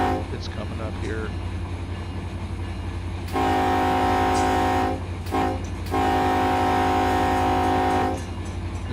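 A supply train runs in the Run8 train simulator on the Roseville to West Colton route, giving a steady low rumble with long loud horn blasts, two sustained blows separated by short breaks, and a voice talking over the start.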